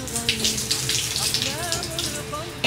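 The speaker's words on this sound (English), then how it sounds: "Correct way to wash your arms." Water running steadily from a tap while arms are washed for wudu, a close, continuous splashing stream with faint background tones.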